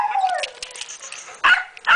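A pet dog barks and yips at close range, a couple of sharp bursts after a whiny sliding whimper, indoors with no talk over it.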